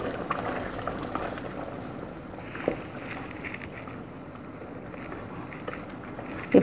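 Pot of water with rice at a rolling boil for Dindigul Thalappakatti mutton biryani, a close, continuous bubbling and churning with scattered pops and a soft steamy rush, steady and alone.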